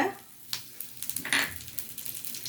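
Dried red chillies and curry leaves sizzle in hot oil in a pan, with a sharp crackling burst as they go in and a light, uneven spitting afterward, close up and without speech.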